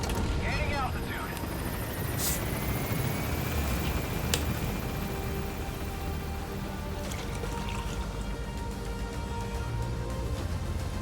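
A helicopter lifts off in Metal Gear Solid V: The Phantom Pain, its dense, steady rotor and engine roar filling the whole stretch at an even level, with a couple of faint sharp ticks.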